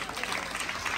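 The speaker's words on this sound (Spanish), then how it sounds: "quiero pedir un fuerte aplauso para nuestros estudiantes de primaria y también nuestros docentes de primaria" Applause from an audience of students and teachers at a school STEAM fair, a dense, continuous patter of clapping hands filling the brief moment.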